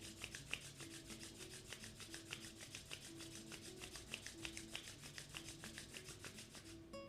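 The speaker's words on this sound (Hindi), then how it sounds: "धीरे धीरे वापस आ जाएंगे, हथेलियों को आपस में रगड़ लेंगे।" Hands rub their palms together during a yoga acupressure practice, making a steady, soft, rhythmic friction sound that repeats close by for several seconds.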